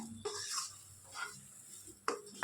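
A spoon scraping and stirring thick barnyard millet dough in a pan, a few soft scrapes and light clinks against the metal, fairly quiet with no talking.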